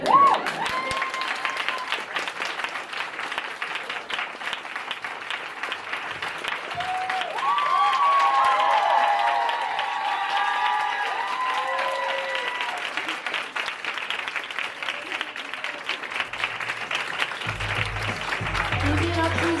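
Loud, sustained audience applause at a stand-up comedy show, a dense wash of many hands clapping that swells and holds for nearly twenty seconds with scattered cheers mixed in.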